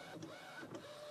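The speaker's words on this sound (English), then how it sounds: "This will align the printhead" An inkjet printer aligning its printhead gives a quiet, continuous mechanical whir with soft rhythmic carriage movements, faint and steady throughout.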